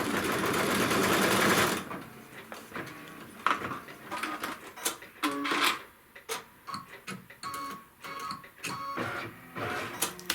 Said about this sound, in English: the next thing it's going to stitch is going to be the trim line on the other side